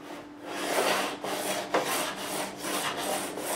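A 16-inch radius block with 400-grit sandpaper worked up and down the neck of a Yamaha CPX-5S acoustic guitar during a re-fret, a steady rhythmic scratchy rasp with regular back-and-forth strokes, close and continuous.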